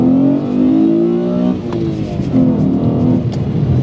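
A Mazda Lantis Type R's 2-litre V6 revs hard and climbs to a high scream toward 8,000 RPM, drops off briefly, then winds up again twice, loud and close with no talking.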